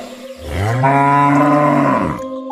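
A single long, loud cow moo, deep and drawn out with a rising then steady tone, heard alone as a sound effect in a story scene about a village cow.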